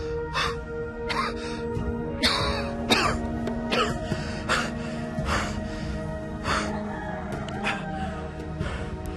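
A sick person coughs and clears their throat repeatedly, in a dozen or so short, harsh bursts spread evenly through the stretch, close and fairly loud over a faint background hum.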